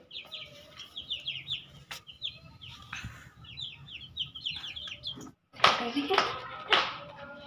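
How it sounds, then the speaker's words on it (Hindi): Chickens cluck and chirp repeatedly in short bursts nearby while being given feed and water, with louder rustling and scraping noises near the end. "मुर्गियों की फीड है मैं वो डाल रही थी इन्हें फीड और पानी दे रही थी"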